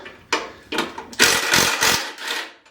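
An impact driver loosening bolts while dismantling a Harley-Davidson Road Glide, several short loud rattling bursts close by with brief pauses between them, no talk.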